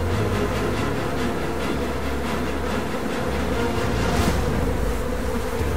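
Bees swarm at a wild honeycomb on a rock during honey gathering, giving a dense, continuous buzzing drone that is loud and close and runs unbroken with no talk.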